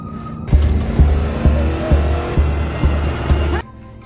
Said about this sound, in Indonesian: memacu kendaraannya sangat kencang